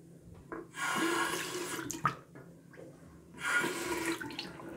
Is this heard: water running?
yes